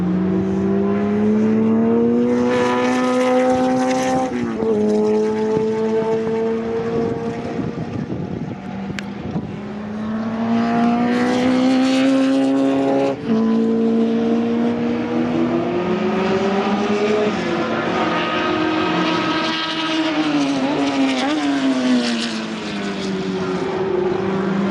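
Sports racing cars lapping in qualifying at Donington Park, engines howling loud and sustained with rising and falling pitch as cars pass and shift gears, overlapping one another for the whole stretch.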